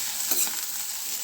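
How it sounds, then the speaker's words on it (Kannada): Onions, green chillies and curry leaves sizzle in a pan for chitranna, a close, steady hiss with a faint stirring scrape, no voices. "ಇದು ಚೆನ್ನಾಗಿ ಫ್ರೈ ಆಗಬೇಕು"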